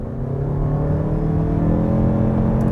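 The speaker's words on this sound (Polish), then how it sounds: "i tak słychać ten silnik, no nie ma co ukrywać." A Lexus NX 350h hybrid with a continuously variable transmission under hard acceleration, its engine giving a steady loud droning rumble from inside the cabin with no speech.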